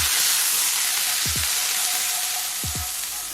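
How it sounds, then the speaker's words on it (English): Marinated steak searing fatty side down in very hot oil, a constant bright sizzle and crackle filling the clip, with a few short low bumps from the pan. "I'm gonna sear the fatty side"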